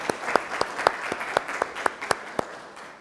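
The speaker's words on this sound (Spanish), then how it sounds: "pido un aplauso para la licenciada Lucila Fuentes de Cal" A thin, sparse round of applause at a law faculty graduates' congress, a small audience clapping for a speaker with distinct individual claps in a loose, irregular rhythm.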